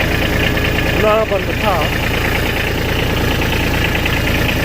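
A Kubota B2601 compact tractor's diesel engine idles with a steady, rhythmic mid-pitched knock close by, while someone talks over it.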